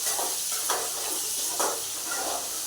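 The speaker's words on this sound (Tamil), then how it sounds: "ஒரு கருவேப்பிலை கொத்து உள்ளே போட்டு நல்லா வதக்கிடுவோம்." Curry leaves sauté in hot oil for a Tamil-style meat curry, giving a continuous soft sizzle with a few brief stirring swells, close and steady.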